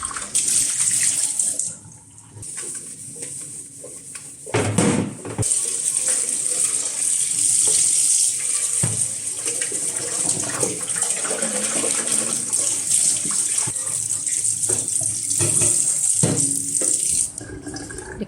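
Kitchen appliance parts, metal pieces greasy with frying oil, being rinsed under a running tap, with steady water hiss throughout and occasional louder splashes and clatters as parts are handled.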